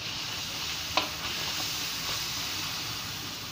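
Maggi goreng instant noodles frying in a pan give off a steady, even sizzle with a single sharp clink near the start, no voices.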